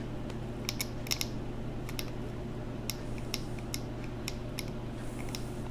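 Quick light clicks from a transmission shift solenoid on a BMW GM 4L30E automatic as its wire is touched, coming in small irregular bursts, close and fairly faint over a steady low hum.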